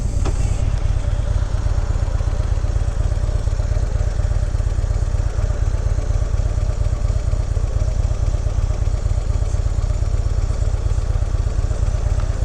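2016 Harley-Davidson FXDLS Dyna S motorcycle on the road, a steady deep engine drone with a constant loud rumble and wind noise throughout, no talking.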